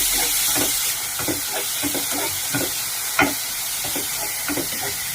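Three green chillies and a tomato sauté in a hot pan, a steady hissing sizzle under rhythmic scraping stir strokes, close and fairly loud with one sharper knock midway, no talk.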